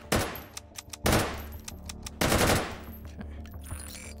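An AK-12 rifle in the VR shooter H3VR during modded Take & Hold fires three short, sharp automatic bursts, close and loud, separated by brief gaps with faint clicks and handling noise.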